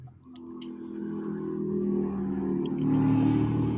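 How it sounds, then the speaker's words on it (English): A motorcycle passes outside an open window, its engine rumble building steadily and growing louder toward the end as it nears, heard from indoors without anyone talking. "I have my window open. There was a motorcycle."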